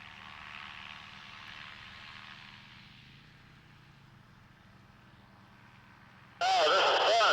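Small light aircraft engine running steadily at full throttle for takeoff, a broad droning roar through the clip that eases slightly midway, followed by a sudden loud burst of radio-like noise at the end.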